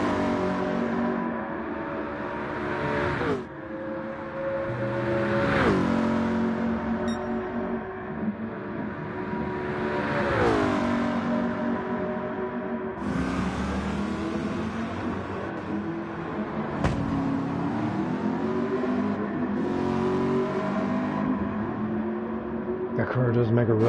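A race car in the 2023 Manufacturer's Cup Race 1 revs and accelerates through repeated rising and falling engine sweeps, with shifts between them. The engine runs steadily under ongoing speech.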